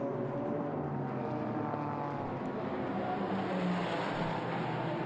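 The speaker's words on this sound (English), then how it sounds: "So over the line they go, and it is the Nissan, slightly faster than the McLaren." GT race cars, including a Nissan and a McLaren, passing on the Fuji circuit during qualifying, a continuous loud engine roar that swells and holds, heard from trackside with no voices.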